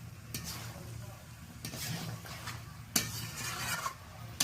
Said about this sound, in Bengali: মশলার সাথে ফুলকপি আলুগুলো বেশ ভালো করে নাড়াচাড়া করে নিচ্ছি।